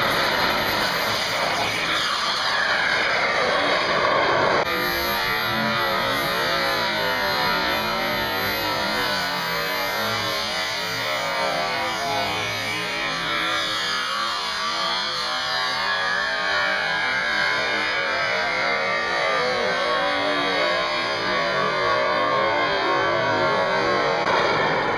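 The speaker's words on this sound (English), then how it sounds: "The sound, ladies and gentlemen, of a jet turbine." A jet turbine engine on a model jet aircraft at a fly-in roars in a loud, continuous high-pitched whine with a rushing hiss. The sound holds steady for about twenty-five seconds, with no talking.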